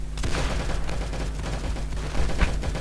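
Rapid automatic gunfire from an M1A1 assault rifle in the Roblox shooter Arsenal, dense and loud bursts that run continuously across the moment with a heavier cluster near the end, and no talk over it.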